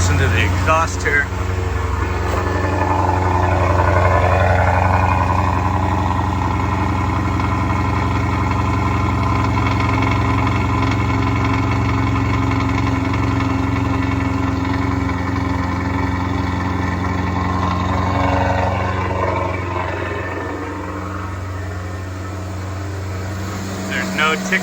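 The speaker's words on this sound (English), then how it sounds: "You can listen to the exhaust here." Steady low rumble of a 2012 Maserati Quattroporte S exhaust idling nearby, even and continuous with no ticking, easing slightly lower near the end.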